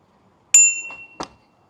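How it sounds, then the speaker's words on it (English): The bell on an iScooter U1 electric scooter gives one bright, ringing ding that hangs briefly, followed by a softer second strike; close and loud, outdoors on a city ride with no talking. "I wonder if I can get past this person if he hears my bell."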